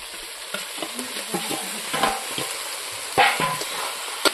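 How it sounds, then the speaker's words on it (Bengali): Fried potatoes are stirred into sizzling spices and dry chilli powder in a pan for a Bengali fish curry. A spoon scrapes in repeated close strokes over a constant frying hiss, with no voices. "এখন আমি ভাজা আলুটা দিয়ে দেব।"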